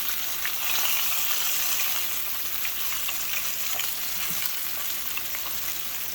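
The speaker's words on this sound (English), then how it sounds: "I'm going to flip these caps once more. And just let them cook for another minute or so on that side." Wild mushroom caps and stalks fry in a hot pan, giving a steady, close, dense sizzle that holds at an even level throughout with no talking.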